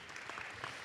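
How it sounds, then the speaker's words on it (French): Brief, faint burst of audience applause at a French mayors' congress, a steady wash of clapping heard from a distance. "Et effectivement, on applaudit Guy Drut"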